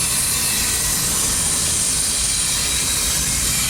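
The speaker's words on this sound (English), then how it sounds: "We're surrounded by trains" Trains rolling through Cajon Pass give a steady, loud wash of rail noise and high hiss that holds unbroken throughout, with no voices.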